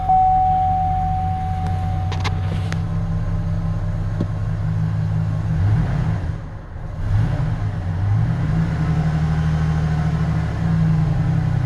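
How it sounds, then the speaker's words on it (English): A 2004 Chevy Silverado farm truck engine idles steadily with a low, constant rumble, close and continuous, with a brief dip partway through and no talking. "we will start the vehicle"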